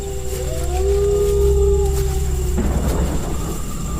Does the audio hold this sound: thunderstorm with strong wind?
yes